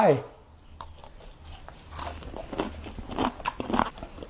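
A crisp bite into a crunchy deep-fried enoki mushroom fritter, served on a spoon with ajad cucumber relish, followed by close crunching and chewing, with someone talking over it.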